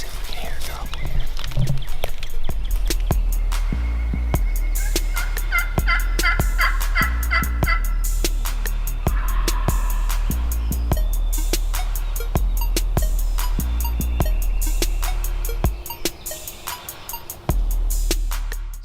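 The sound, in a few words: wild turkey gobbler gobbling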